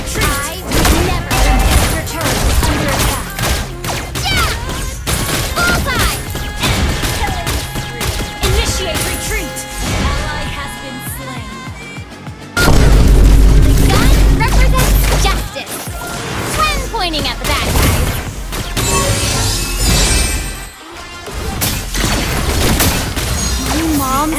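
A loud, dense video game battle with continuous gunfire volleys, explosions and crashing impacts layered over music and effects, with game voices calling out amid the din.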